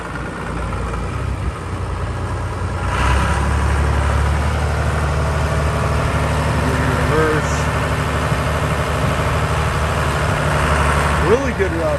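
A 1983 John Deere 2950 tractor engine runs steadily with a low rumble, rising in intensity as it revs up, with faint talking over the mechanical drone.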